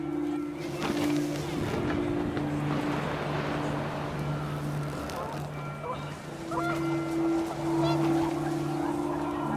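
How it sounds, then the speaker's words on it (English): Panicked geese honk in the video game What Remains of Edith Finch, brief calls over gusting wind and a steady droning tone, with a narrator's voice over it. "The wind picked up, and panicked geese appeared and quickly went."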